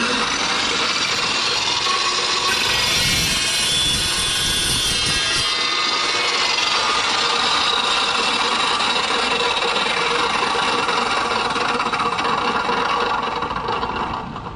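An Evolution EvoSaw 380 cuts through 3/4-inch square steel tube, a loud, continuous high-pitched grinding whine with a rough motor roar underneath that holds steady nearly the whole time, close up.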